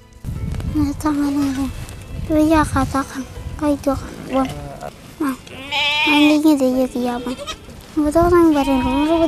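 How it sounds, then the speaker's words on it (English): A herd of goats bleats constantly as they are driven home after a day out in the sun in Turkana. The many close, wavering cries overlap, and several animals call at once, with no clear speech. "Here we find 10-year-old Alan Elimlim leading his goats home after a long day in the sun."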